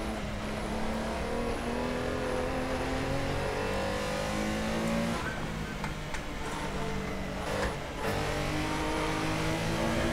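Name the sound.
Porsche Carrera Cup race car engine in sim racing video game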